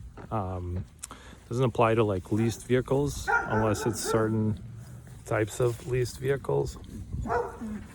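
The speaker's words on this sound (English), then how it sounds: "That was the neighbor's dog." A neighbor's dog barks and yips repeatedly outdoors while a man walking his own dog keeps talking over it, the short barks mixed in with his speech.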